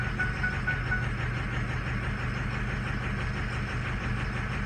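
Car engine idling steadily after a cold start, a continuous low mechanical drone with a faint ticking knock, close and alone with no talk.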